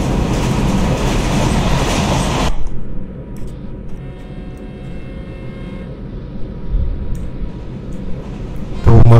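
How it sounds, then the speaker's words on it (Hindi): A Rajdhani Express hauled by an EMD diesel locomotive rolls past in the Open Rails train simulator, a loud broadband rush of wheels and engine that drops to a steady quieter rumble with faint clatter, then swells again at the end. "और पीछे से आ गई है 12431 तिरुवदम हजरत निजामुद्दीन राजधानी एक्सप्रेस"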